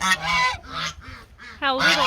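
Several geese honk loudly nearby in a rapid series of calls, separated by brief pauses.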